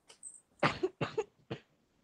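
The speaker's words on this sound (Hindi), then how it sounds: "ओहो खांसी हो रही है।" A person coughs several times in quick succession, four or five short dry bursts close to the microphone, then quiet.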